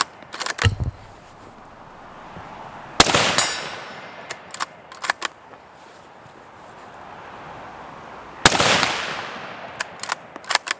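Rifle shots from a Ruger American Scout with open sights fired at a steel silhouette target at 100 yards, four sharp loud cracks spaced seconds apart, each followed by a ringing ping, with faint clicks of the action between shots.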